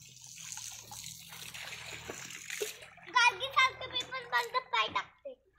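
Children bathe and play in water, light splashes and trickles at first, then children's excited voices chatter and call out over the splashing.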